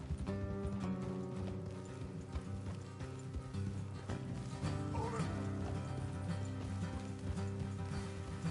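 Horses' hooves clip-clop steadily in Red Dead Redemption 2 as riders travel along a road, a continuous rhythmic trot under a bed of game music.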